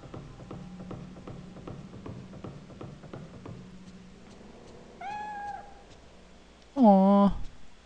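A cat meows in the Fatal Frame 3 video game, two close mewing calls with the second louder, coming after a rhythmic ambient pulse in a quiet scene.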